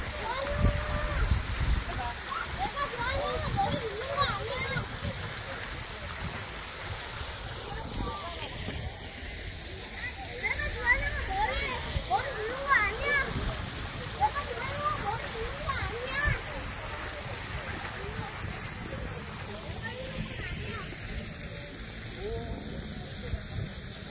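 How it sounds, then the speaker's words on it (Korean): Children splash and play in a cool park fountain at Ilsan Lake Park in Gyeonggi-do, with steady water spray and splashing throughout and children's voices mixed in. "시원한 분수 속에서 어린이들은 벌써 물놀이를 하고 있습니다."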